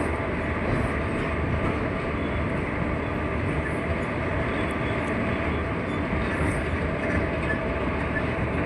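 The Rajkot to Bhuj special train runs along at speed with a continuous, loud rolling rumble and wheel roar that stays even throughout, with no talking over it.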